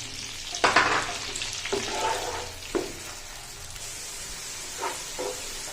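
Fresh onions frying and browning in a pan for chana dal, a steady sizzle with several stirring scrapes and clatters at intervals, close and without talk.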